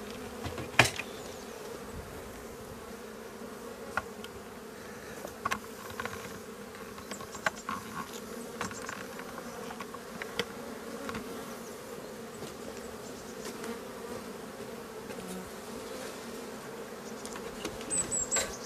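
Honeybee foragers buzz around healthy hives in early March during floor-board replacement, a continuous low hum of many bees with occasional closer passes and faint clicks, outdoors and without talk.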